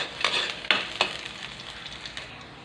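Garlic sautés in hot cooking oil for stir-fried chayote shoots with mushrooms and pork, a bright continuous sizzle punctuated by several crisp clacks of a utensil stirring in the pan, close and fairly loud at first, then settling.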